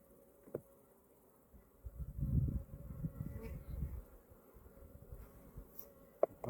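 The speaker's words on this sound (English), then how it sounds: "The bees are wondering as to what's going on here." Honeybees around an open hive buzz in a low, soft drone that swells for a couple of seconds then thins out, with a few faint clicks around it.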